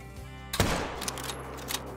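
A single loud hunting rifle shot fired at a sheep in the hunting game Call of the Wild, a sharp blast about midway through followed by a long fading echo over a steady ambient background.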